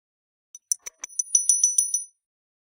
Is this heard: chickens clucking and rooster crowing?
no